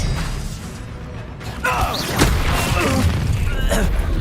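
Expelliarmus spell cast in the video game Hogwarts Legacy: a sudden booming magical burst with a whooshing tail over a dense layer of game sound and music.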